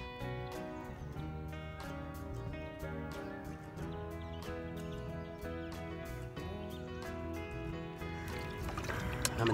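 Gentle paddle strokes from a sit-on-top kayak on a river splash and drip in the water at a steady rhythm, close by, with faint birdsong and soft water sounds around them.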